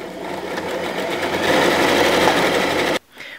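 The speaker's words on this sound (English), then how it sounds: "So I'm going to stitch about 1/4 inch away from the raw edge." A sewing machine stitches a fabric strip for a ruffled pillowcase dress, running in a steady, loud, continuous whir for about three seconds before stopping abruptly.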